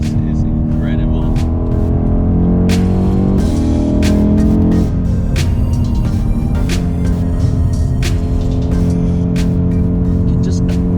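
A BMW M850i xDrive Coupe's engine roars loud and close while driving, a steady throaty drone that shifts pitch as it pulls and eases through the corners.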